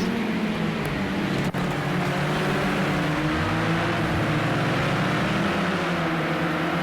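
Racing cars, BMW and Renault touring cars, launch from the start at Imola in Project Cars 2 and head into the first bend, with a steady, dense engine and road roar throughout and no talk.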